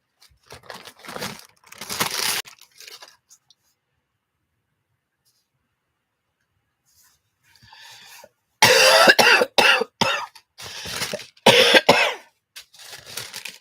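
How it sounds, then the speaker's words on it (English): A person coughs in two separate fits, a few raspy coughs at first, then after a long quiet stretch a louder, harsher cluster of repeated coughs close by. "If you don't like coughing, you may want to save yourself."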